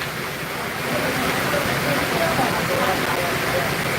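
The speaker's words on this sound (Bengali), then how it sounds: "দেখতে পাচ্ছেন প্রচুর পরিমাণ বৃষ্টির মধ্যে যাচ্ছে লঞ্চটি" Heavy rain falls steadily on a river launch leaving a ghat during a storm, a dense continuous hiss of downpour and water that swells slightly after the first second, with faint voices underneath.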